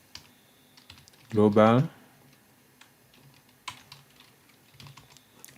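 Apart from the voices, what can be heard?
typing npm install command on laptop keyboard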